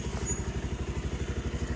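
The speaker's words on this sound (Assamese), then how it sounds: "আহি গ'ল মোৰ বাইক" A motorcycle engine runs nearby with a fast, steady, even thumping beat and no voices over it.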